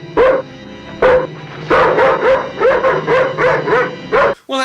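A dog in a film scene barks repeatedly in a close, loud series of yips and sharp barks mixed with whimpers, ending abruptly.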